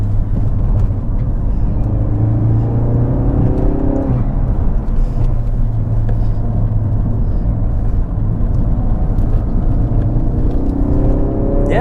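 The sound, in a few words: modified Mk3 Ford Focus RS driving through corners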